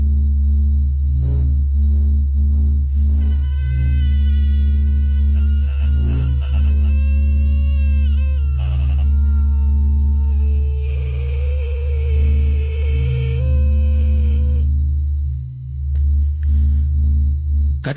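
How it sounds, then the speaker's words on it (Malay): Sonar-like electronic pings and warbling tones over a loud, constant low hum and droning noise, continuous for the whole stretch, with wavering pitched sweeps that could pass for groaning, as if heard down a phone line at night. "Bunyi sonar, kemudian bunyi macam orang mengerang."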